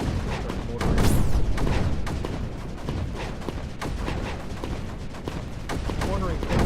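Mortars firing in the video game Creeper World 4, a dense run of booming thuds and explosive bursts layered over game effects, with a voice talking throughout.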